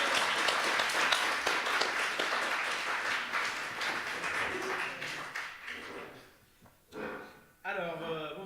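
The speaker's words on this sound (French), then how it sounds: "Applaudissements," Audience applause and clapping for a band arriving on stage at a live French television music show, a dense sustained burst that fades out, followed by a host speaking.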